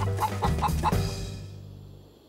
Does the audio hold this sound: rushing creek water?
no